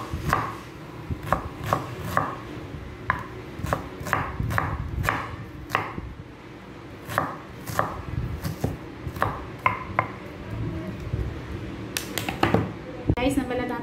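An onion is chopped with a knife on a cutting board for a cucumber and salted egg salad, with sharp, fairly regular knocks throughout and a voice talking over them.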